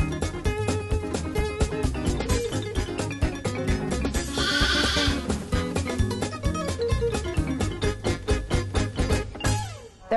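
Sheep and newborn lambs bleating at Maplewood Farm in North Vancouver, repeated overlapping calls close by in a continuous stream, with no talk.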